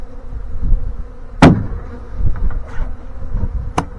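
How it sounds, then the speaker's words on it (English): Dense, steady buzzing of a honey bee swarm in a box, close by, with a couple of sharp knocks cutting through. "Box still full of bees. All those bees in there."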